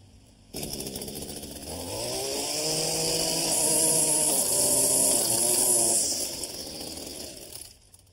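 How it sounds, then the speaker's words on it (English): A gas string trimmer starts up and runs, its small two-stroke engine buzzing loudly and steadily with rising and falling revs, close by and without talk. "Now, the trimmer has to be running first for it to work. So I'm going to start it up."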